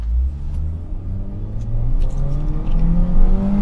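A Honda Jazz automatic in S mode accelerates at full throttle, its engine droning and rising steadily in pitch through a long pull, loud and close with no talk.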